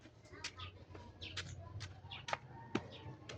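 Pet pigeons coo and flutter close by in a hot backyard. Soft burbling calls come with a few sharper clucks and wing flaps, while a voice talks quietly underneath.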